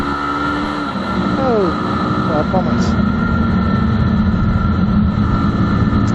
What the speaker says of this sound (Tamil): ஆக்சுவலாக அதோட எக்ஸாஸ்ட் நோட்டு கவனிங்க.